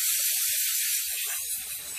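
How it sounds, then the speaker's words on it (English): AutoZone brake cleaner sprays from an aerosol can onto rear brake parts of a BMW 328i AWD, a steady close hiss running continuously with a few faint knocks underneath. "Take your AutoZone brake cleaner."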